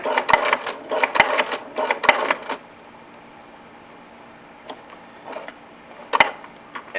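A sewing machine stitching a double magazine pouch runs in close, loud rhythmic bursts of rapid needle clatter, then pauses for quieter handling clicks before a final short burst.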